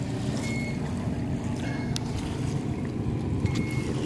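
Motorboats on Gull Lake, a continuous low engine rumble mixed with wind and water noise, some thin whistling tones drifting in and out, no voices.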